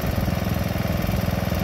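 Close, loud and steady, the engine of a 1955 Hahn-built Wheel Horse Ride-Away Senior tractor idles with an even, rapid chugging pulse and no talking.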